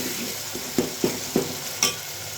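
Chilli frying in a pan for a mung bean curry, a steady sizzle with a few sharp stirring scrapes spaced through the short stretch, close and fairly loud with no voices.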